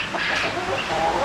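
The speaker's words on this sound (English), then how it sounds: "So that makes 9 laying chickens." Laying hens cluck on a small city farm alongside roosters, a steady murmur of overlapping bird calls at moderate distance that fills the whole short moment without speech.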